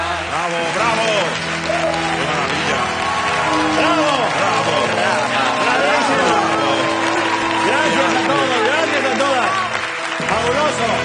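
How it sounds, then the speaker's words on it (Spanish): A TV studio audience applauds steadily and loudly at a comedy show musical number, the clapping continuous under music and raised voices throughout. "¡Un fuerte aplauso!"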